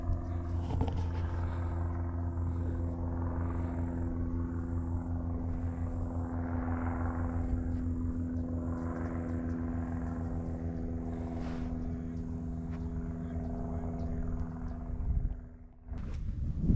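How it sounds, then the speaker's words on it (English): Helicopters fly over Pumpkin Hill Creek Preserve near Jacksonville, Florida, a steady low engine drone with rotor hum that swells and fades at a distance, with no talking. "So here are the helicopters now"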